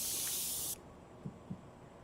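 An airbrush spraying alcohol ink gives a steady close hiss for under a second, then cuts off, followed by two soft taps.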